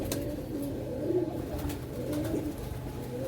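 A female pigeon coos softly in low, rolling murmurs, several soft calls close by over steady background noise, with no talking.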